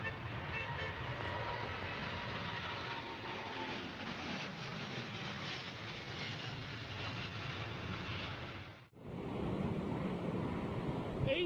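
A large aircraft makes a touch-and-go landing. A broad, steady roar holds, briefly drops out, then returns loud as the engines power back up. No one speaks.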